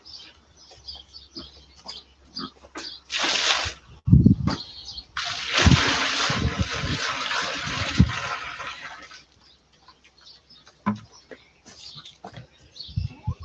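Water poured from a bucket into a gilt's water container on a homestead, a sustained splashing stream with some sloshing, close by, with scattered farm noises around it.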